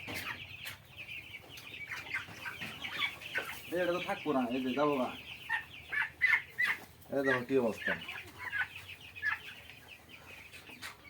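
Hens cluck repeatedly around a chicken farm of about 100 birds, with a few louder drawn-out calls standing out while a person talks nearby.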